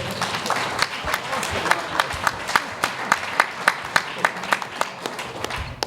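Audience at a venture capital panel event applauds the panel, a dense wash of crowd clapping with sharper individual claps standing out toward the end, and voices murmur underneath.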